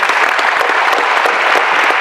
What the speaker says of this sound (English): if we could give them a round of applause for being here